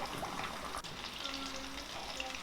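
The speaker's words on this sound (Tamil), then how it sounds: "நம்ம அதே மாதிரி மீடியம் டு லோ ஃப்ளேமில் வச்சு நல்லா பொரிச்சு எடுத்துக்க போகிறோம்." Chicken pieces frying steadily in hot oil over a medium-low flame, a continuous soft sizzle and bubbling with faint crackles, close and even throughout.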